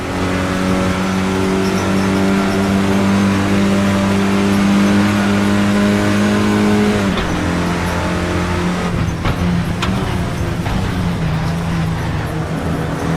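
A damaged Clio Cup race car engine in a sim racing game drones steadily at high revs, then drops sharply in pitch before climbing again under a rough, noisy texture, loud and continuous with no talking.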